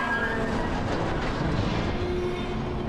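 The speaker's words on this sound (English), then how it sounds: "Now we get a nice little peaceful tram ride." Steady rumbling rail noise of a tram ride in the game White Knuckle, continuous clattering wheels and low mechanical drone throughout, fairly loud and close with no talking.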